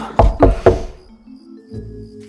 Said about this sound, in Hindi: तभी जेंटली दरवाजा खटका